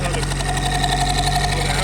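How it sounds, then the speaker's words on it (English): Turbo Honda Civic EG engine running steadily up close, with a fast rhythmic ticking as the cam gears rub against the valve cover, a continuous mechanical hum underneath. "Oh yeah, the cam gears are rubbing the valve cover."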